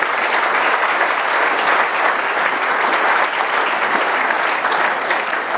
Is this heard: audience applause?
yes